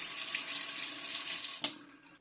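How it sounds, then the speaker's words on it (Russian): Water runs from a newly installed kitchen faucet into the sink, a steady hiss close by that cuts off sharply near the end with a small knock. "Можно проверить, запустить воду."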